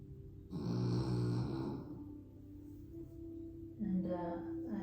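A small dog named Shanti snores in a quiet room, a couple of low nasal rumbling breaths, the first long and loud, the second fainter and shorter, with no talking.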